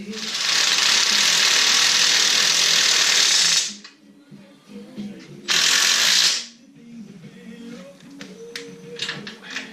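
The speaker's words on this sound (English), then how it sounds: "Back up that bolt." Rapid ratchet clicking on a Can-Am Renegade XMR 1000R ATV as a bolt is backed out, a loud dense burst of about four seconds, then a shorter second burst, followed by quieter clinks and handling noises.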